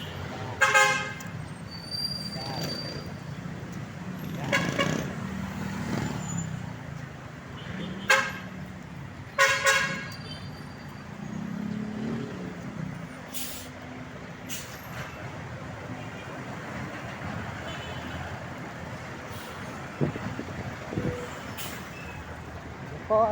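City traffic in Manila, with repeated car horn toots, some short and some held, rising over a steady engine rumble and passing vehicles, with someone talking through much of it.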